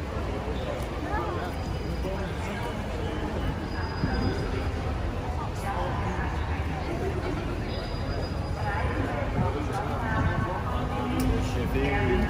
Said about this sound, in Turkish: Şimdi tren istasyonundayız.